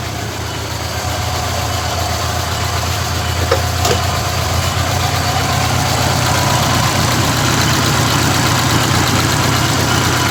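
A Mazda Baby Boomer car engine idles steadily at close range, a loud, even mechanical drone with constant vibration throughout and a brief faint click partway through.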